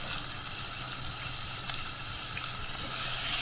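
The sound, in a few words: chicken frying with ginger and garlic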